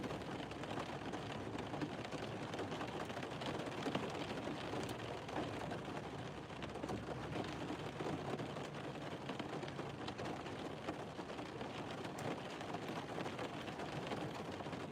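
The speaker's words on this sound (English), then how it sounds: "It ain't stopped raining, bro." Steady rain falls outside, a dense continuous hiss of drops with a few faint pops, unbroken and even throughout with no talking.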